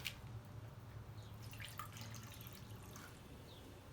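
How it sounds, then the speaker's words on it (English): Water trickles and drips into a seashell holding a flower arrangement with succulents, amaryllis and fern, a soft, continuous pouring sound close by. "And now we will put some water in it"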